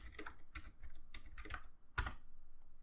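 A command is typed on a computer keyboard, with a quick run of soft, close key clicks ending in one sharper keystroke, no voices.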